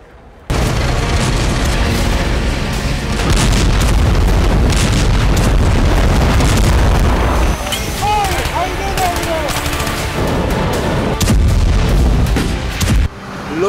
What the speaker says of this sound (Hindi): आज तेल अवीव पर हमास ने दर्जनों रॉकेट से आक्रमण किया।